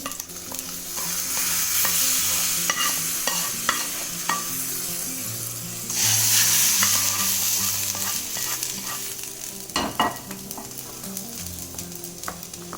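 Tempering for coconut chutney sizzling hard in hot oil, a loud steady crackle with sharp pops and a surge of spitting partway through, no voices.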